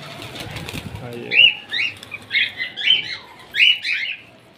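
Pet parrots, including cockatiels and zebra finches, give a run of sharp, close chirps in quick bursts after a brief flutter of wings, with faint background noise underneath.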